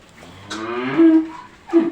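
Cattle on a dairy farm low while a calf is let loose before milking, with a long drawn-out moo near the middle and a shorter, louder call at the end, close by and without talk.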